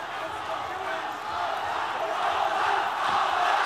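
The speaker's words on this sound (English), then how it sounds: "Crowd making rapturous noise here at the Tijuana Stadium." A stadium crowd roars steadily at an MMA fight in Tijuana Stadium, a dense, sustained wall of cheering that swells slightly toward the end.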